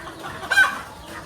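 A single short cluck from a nearby country hen rises briefly out of a quiet, low background in a poultry pen.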